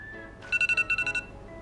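A beeping alarm, like a school or alarm-clock signal, sounds in a quick run of about eight short electronic pulses, moderately loud and alone against a faint background hum.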